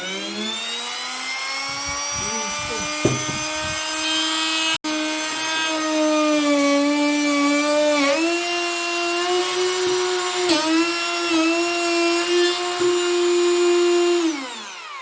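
A Worcraft CER-S20LiB cordless brushless router runs with a loud, steady high-pitched whine, its pitch dipping briefly a few times, then winding down at the end, with no talk.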